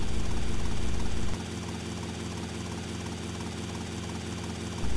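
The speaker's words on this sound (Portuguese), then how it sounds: "Agora é só pegar o helicóptero e partir com as fotos." Helicopter flying in the video game GTA Vice City, a steady whirring rotor and engine drone, close and constant, with a slight shift in tone partway through and no talking.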